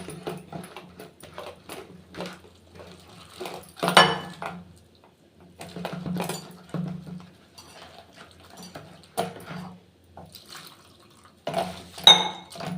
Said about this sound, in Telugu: ఇక నీళ్ళు వేసేసి కలిపేయడమే.